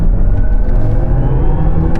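A BMW iX M60 electric car accelerates with a loud, steady whirring rumble heard close and continuous, no voices over it.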